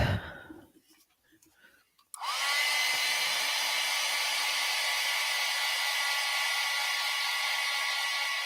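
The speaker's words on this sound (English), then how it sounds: "And let's dry it." A hair dryer switches on and blows steadily to dry acrylic paint, a loud, close, continuous whoosh after a few seconds of quiet breathing-like sounds.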